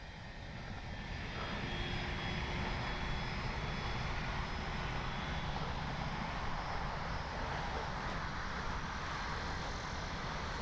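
A Durafly 1100mm T-28 RC model airplane with its gear down flies a touch and go on an evening flight, making a steady, continuous engine drone that holds the whole time.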